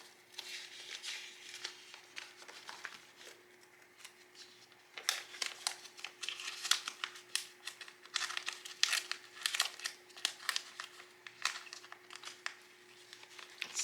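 Paper cash bills are counted and slid into a snug paper budgeting envelope, making faint, close crinkling and rustling that comes in bursts and grows busier partway through, with no speech.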